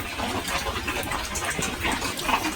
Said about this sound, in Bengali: বাটিতে ঢেলে নিচ্ছি।